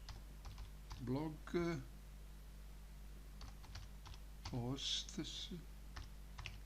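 Computer keyboard keys tapped in short bursts while writing React code, faint clicks running under a voice that talks intermittently over them.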